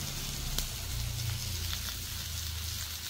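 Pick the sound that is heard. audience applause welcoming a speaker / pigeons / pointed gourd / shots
pointed gourd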